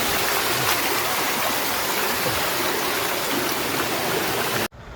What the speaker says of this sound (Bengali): ঝর্ণা আর পাহাড় একসঙ্গে দেখেছি এবং ঝর্ণার পানিতে গোসল করলাম